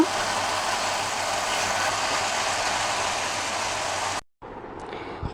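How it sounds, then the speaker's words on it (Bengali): Potato, carrot, tomato and green chilli fry in a pan with a steady, loud broadband sizzle that holds unbroken for about four seconds, drops out briefly, then resumes more faintly. "ভালো করে এখন ভাজা ভাজা করে নেব"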